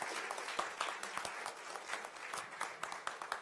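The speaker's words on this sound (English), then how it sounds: "can I also have one more round of applause for the jury?" Audience applause for the jury at a design award show: a faint crowd of hands clapping in a quick, uneven patter throughout.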